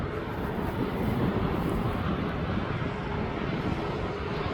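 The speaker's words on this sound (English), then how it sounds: "That's a Bombardier Challenger 605, and that's going down to Stuttgart." A Bombardier Challenger 605 jet taxiing at East Midlands Airport, a steady broad engine roar mixed with wind noise, constant and fairly near throughout.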